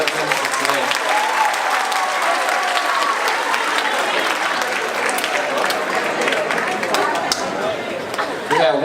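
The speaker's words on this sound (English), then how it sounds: "Can we give one more round of applause for all of the Divine Nine representatives today?" An audience claps loudly for Divine Nine fraternity and sorority representatives at an NAACP event, dense sustained applause with chatter and cheers mixed in across the whole stretch.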